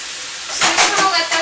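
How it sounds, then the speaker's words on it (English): Lasagna sauce of onions and mushrooms simmering in a pan, a steady close hiss and sizzle that swells slightly, with a voice talking over it. "So I'm just going to let that simmer a little bit and cook all together and get lovely juices going"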